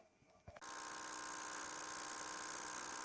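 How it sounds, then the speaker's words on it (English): An MSI GE60 2PC laptop's CPU fan whirs with a steady, fairly loud broadband whine and hum, starting abruptly after a brief quiet moment and running on continuously. "It was making some weird noises."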